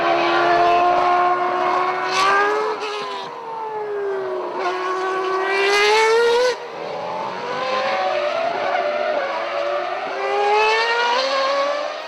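An ex-Schumacher 2002 Formula 1 car lapping a track at the Ferrari Maserati Festival, its shrill, screaming engine sweeping up and down through gear changes as it passes, loud and with no talk.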